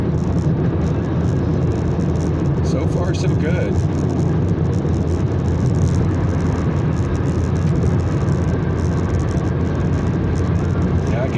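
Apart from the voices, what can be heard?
car driving at highway speed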